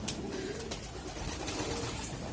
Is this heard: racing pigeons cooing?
yes